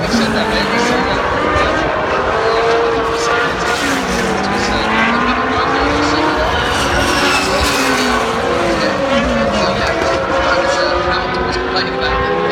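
A Formula 1 car at Austin dives downhill into turn 1, its high-pitched engine note sweeping and shifting loudly, with other engine whines layered behind and a commentator talking over it.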